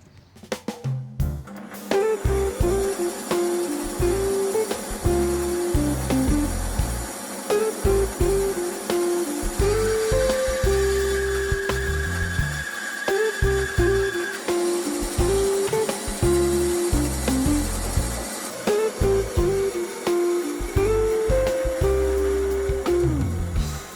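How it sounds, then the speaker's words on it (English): A bandsaw slices through a wooden board to trim off a nailed section for a kitchen island top, giving a steady, loud, continuous whirring drone with a faint whine that holds for the whole stretch, with no talking. "I'll just put this across my bandsaw and cut enough of the wood off"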